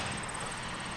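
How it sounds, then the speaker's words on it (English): Diesel engines idle in the background where a crew installs a new telephone pole, heard as a faint, steady low rumble with a thin tonal hum and nothing else. "If you hear diesels idling in the background"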